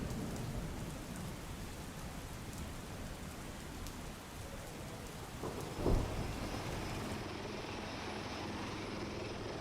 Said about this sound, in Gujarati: અતિ ભારે વરસાદ વરસી રહ્યો છે